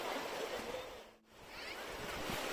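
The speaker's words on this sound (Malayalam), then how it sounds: "ഈ രീതിയിലുള്ള ചെറിയ അരുവികൾ, ജലധാരകൾ ഇതൊക്കെ ഇവിടെ കാണാൻ സാധിക്കും" Water rushes steadily through small streams and fountains at Brindavan Garden in Mysore, a continuous broad hiss with a brief dip midway.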